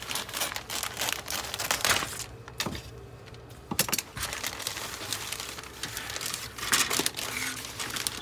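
Plastic bags around the sprues of a Revell 1:48 F-16 Fighting Falcon Thunderbirds model kit crinkle and rustle close up, with irregular sharp crackles and tearing handling sounds throughout and no talking.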